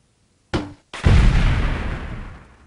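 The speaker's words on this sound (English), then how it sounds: "we are gonna have to use our grenade launchers here" Grenade launcher blasts in the video game Delta Force 2: a short sharp report, a brief gap, then a heavy booming explosion with a long rumbling decay.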